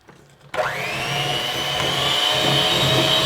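An electric mixer whirs on after half a second of near quiet, then runs steadily and loudly close by as it blends peanut butter cookie dough in a bowl, with no talking over it.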